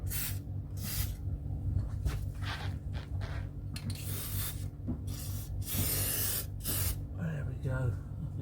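Protective coating sprayed from an aerosol can onto a car underside, short bursts of close hissing spray separated by pauses, with someone talking intermittently over and between the bursts.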